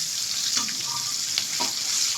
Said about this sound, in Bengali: চিংড়ি মাছটা ভাজতে বেশিক্ষণ টাইম লাগে না একটুখানি ভাজলেই হয়ে যাবে